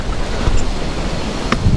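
Wind rushes steadily past the microphone on a mountain trail on Mt. Manabu, producing a constant broad whoosh with soft gusts and a faint rustle, with no voices.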